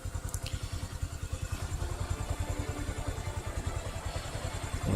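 A motorbike engine plays back in a recording, a steady rapid pulsing chug that holds at an even loudness for the whole stretch, with a brief higher clatter near the start.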